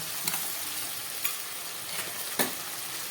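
Green chili, ginger and garlic paste frying in a pan, giving a steady soft sizzle with a few sharp clinks of stirring at intervals.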